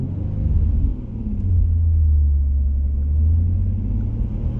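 A 2004 Nissan 350Z with a manual gearbox revs its engine to about 2,500 RPM, a deep, loud rumble that swells, dips briefly, then holds and rises again.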